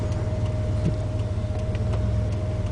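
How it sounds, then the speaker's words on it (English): A DeLorean Time Machine car drives along with a low, steady engine rumble and road noise from inside the cabin, and no one speaks. "It's a lot of fun driving around in the Delorean Time Machine"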